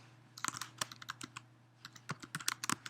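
Quiet typing on a computer keyboard, irregular clusters of close, crisp key clicks with brief pauses between bursts, alone without voices.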